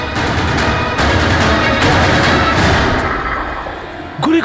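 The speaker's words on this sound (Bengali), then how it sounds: "গুলি করে দিল" Gunfire rings out in a Bengali crime drama scene, a loud dense burst of shots and impacts lasting several seconds, then a sharp cut into another sound.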